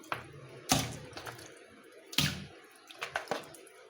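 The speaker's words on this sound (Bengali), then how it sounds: "তো আমি মাংসগুলো সুন্দর করে পরিষ্কার করে ধুয়ে নিব।" Raw chicken being washed under water for biryani, with a few splashing bursts and trickling drips between them, quiet and close, with no talk.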